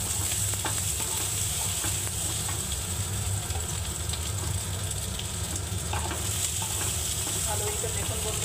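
Potatoes frying in a pan, a steady close sizzle that runs unbroken throughout, with occasional scrapes and stirs of a spoon.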